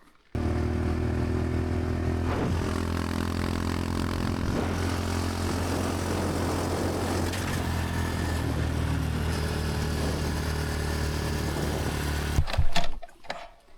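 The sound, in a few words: motorcycle riding uphill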